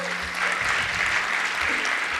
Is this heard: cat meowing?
no